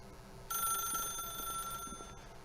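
A telephone bell rings loudly and steadily in The Stanley Parable video game, starting abruptly after a brief quiet moment and continuing alone with a bright, sustained metallic trill.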